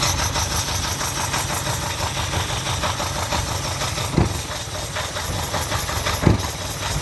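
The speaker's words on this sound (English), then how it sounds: "It is spinning back out of both the back carbs. It won't take any throttle." A 1979 Ferrari 308 engine running poorly with both rear carburetors spitting back, a steady loud rough idle with hiss and two sharp pops standing out, no talking.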